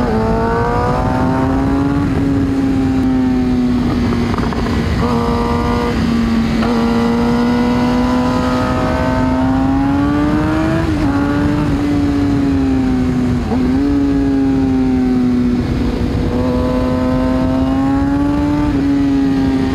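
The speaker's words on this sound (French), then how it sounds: "Le peps du GSXR, c'est quand même impressionnant" Suzuki GSX-R motorcycle accelerating on clean Corsican roads, its engine loud and close, pitch climbing in repeated sweeps through the gears with brief dips at each shift, steady and continuous.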